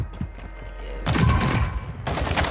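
A grenade explosion in a video game, a sudden burst of booming blasts and crackling gunfire-like bangs that comes in two loud waves, with no talking.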